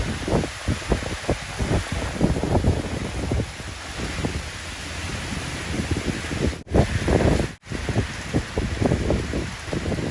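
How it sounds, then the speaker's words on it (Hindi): Rain falls outside with a broad, rushing hiss mixed with gusty wind buffeting the microphone, and a couple of brief abrupt dropouts interrupt the steady wash. "जब भी बारिश होती है मैं बाहर निकल के ऐसे बारिश देखती हूँ"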